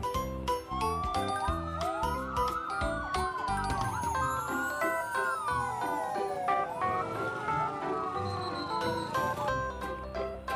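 Toy fire truck siren playing an electronic wailing tone that sweeps up and down repeatedly, backed by jingly toy music and beeps, loud and close, with no talking.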